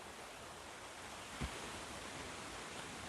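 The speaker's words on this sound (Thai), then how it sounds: "อันนี้กับบรรยากาศน้ำตกไหลลงไป" A waterfall flows down in a faint, distant, steady rushing wash, with one brief soft thump midway.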